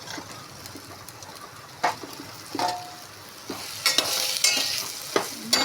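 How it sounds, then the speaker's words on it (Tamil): Okra sautéing in a pan for a Tamil kuzhambu gives a steady soft sizzle with occasional louder stirring scrapes and clatters, growing busier toward the end. "அதுக்கப்புறம் நம்ம வெண்டைக்காயை போட்டுக்கலாம்"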